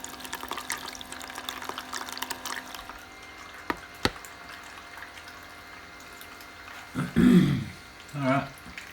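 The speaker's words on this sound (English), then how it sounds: "So I'm making little splashing sounds now." Hand splashing water around a pipe to cool a Peltier thermoelectric module, a few soft sloshes and drips near the end after quieter faint trickling, with a voice talking in the background.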